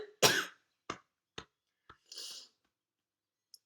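A woman coughs once sharply, followed by a few smaller coughs and throat-clearing bursts spaced through a quiet room, close to the microphone.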